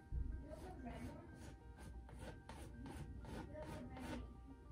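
A palette knife scrapes oil paint onto canvas in a rhythmic series of soft rasping strokes, faint and close, repeating roughly every half second.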